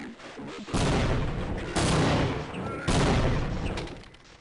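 Grenade explosions in the video game Half-Life: three loud, booming blasts roughly a second apart, each with a long rumbling tail, sitting close and dominant.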